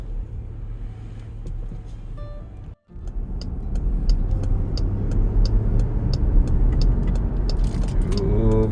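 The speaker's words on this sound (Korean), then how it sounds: "달리고 있는 모습인데요 엔진 파워도 좋고요" Steady engine hum and road rumble from inside a moving Jeep Grand Cherokee SUV, a brief dropout, then the drone builds slightly with faint ticking clicks on top.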